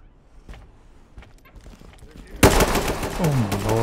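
Gunfire in the tactical shooter game Ready or Not: a sudden loud burst of rapid shots breaks out after quieter footsteps and movement, continuing as a dense crackling volley with a falling tone.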